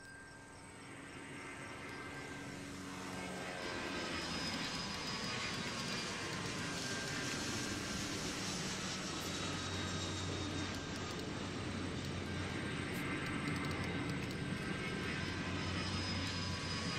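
A jet airliner rumbles at an airport in the Airport CEO management game, its steady engine roar building over the first few seconds and then holding loud and even to the end, with no talk.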